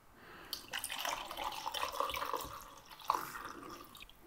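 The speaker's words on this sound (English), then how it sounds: "we're gonna take our chemicals and pour it straight into there" CineStill DF96 monobath developer poured into a film developing tank, a fairly quiet, steady trickling pour running for several seconds with a brief louder splash near the end.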